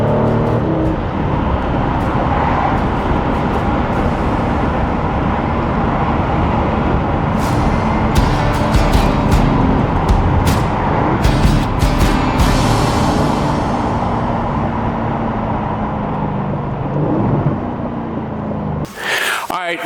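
Aston Martin DB11 with a 503-horsepower twin-turbo V8 drives steadily, its loud, continuous engine and road rumble held for nearly twenty seconds before cutting off abruptly near the end.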